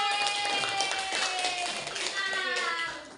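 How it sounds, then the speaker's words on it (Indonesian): Schoolchildren in an elementary math class clap together in a dense, fast burst of applause, close and loud, with children's voices mixed in before it fades out. "Oke, tepuk tangan untuk kalian."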